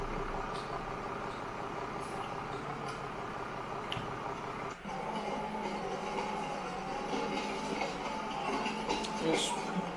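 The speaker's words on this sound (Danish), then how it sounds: "Jeg skal køre en tur med toget rundt og kigge." A train runs steadily in the video game Farming Simulator 19, giving a continuous rolling rumble with a brief dip in level near the middle before it carries on at the same volume.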